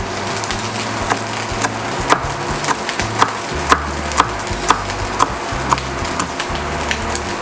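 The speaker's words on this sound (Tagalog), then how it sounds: "Ngayon, hiwain lang natin ang ating basil." A knife slicing basil leaves on a cutting board, a steady series of sharp chopping taps at a regular rhythm, close and clear over low background music.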